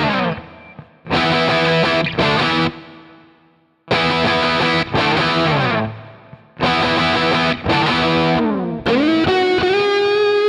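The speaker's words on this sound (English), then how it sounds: "actually now stick it in the guitar and see what it sounds like" Distorted electric guitar played through a homemade paper-in-oil capacitor, with loud, effect-heavy strummed chords in several bursts separated by short pauses and a sustained bending note at the end.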